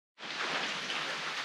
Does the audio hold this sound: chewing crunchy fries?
no